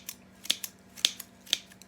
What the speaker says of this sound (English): or sharpen my scissors.